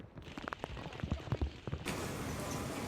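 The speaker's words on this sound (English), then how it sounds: "Heavy rain also caused significant disruptions in Tokyo." Heavy typhoon rain in Tokyo, a dense, steady hiss of downpour that swells suddenly louder partway through and stays constant, with no voices.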